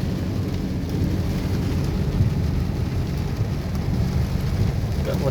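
Heavy rain pours down in a thunderstorm at the start of the rainy season, a loud, unbroken wash of rainfall with deep thunder rumbling underneath throughout.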